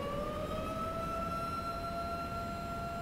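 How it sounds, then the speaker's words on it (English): Tornado warning sirens wail steadily in the distance as a large tornado approaches, a sustained rising and falling tone held over constant wind and rumble, with no one talking. "the tornado sirens again are a very disconcerting sound to me"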